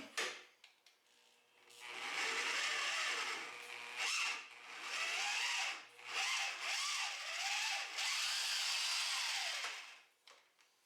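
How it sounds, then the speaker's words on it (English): A power drill whirs in several sustained bursts with brief pauses while adjusting the front shocks of a 2002 Yamaha SX Viper snowmobile, its pitch rising and falling under load, close by and fairly loud. "Make sure your drill's going in the downward position."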